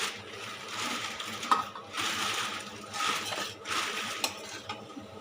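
Eggplant fry stirred in a pan with peanut oil, with repeated scraping and clinking strokes coming in bursts of about a second at a steady pace over faint background sizzle.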